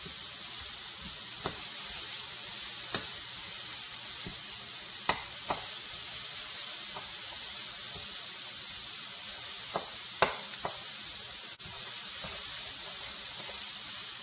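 Ground pork fries and is broken up in a pan for udon: a soft, continuous sizzle with scattered sharp ticks and scrapes from the utensil, no talking.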